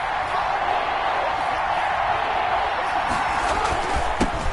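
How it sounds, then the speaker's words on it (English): A stadium crowd in a PS4 football video game roars in a steady, dense wash of cheering from a distance, with a faint thud near the end. "The crowd getting into it as we come up on a big third down."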